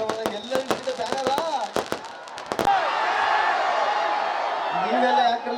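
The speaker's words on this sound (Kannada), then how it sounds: "ಈ ಪಟಾಕಿ ಸೌಂಡ್ ಎಲ್ಲ ಇಷ್ಟೊಂದು ಇರ್ತದೆ" Firecrackers burst at a crowded fan gathering at Chikka Tirupati: a rapid string of sharp, loud cracks over the first half, then a steady roar of crowd noise with voices.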